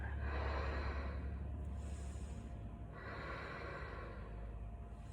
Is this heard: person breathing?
yes